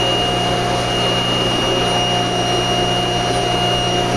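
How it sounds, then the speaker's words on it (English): A continuous loud mechanical hum with steady tonal whine, a Fulton boiler's feed pump running without pause, close and unchanging. "The sound you're hearing is the boiler feed pump having kicked in"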